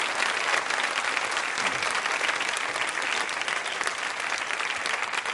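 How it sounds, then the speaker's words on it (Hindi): Audience applause at a women's institute quiz show, dense and steady clapping from a crowd that holds at an even level throughout. "तालियां बजाइए इस जानकारी के लिए भी आप।"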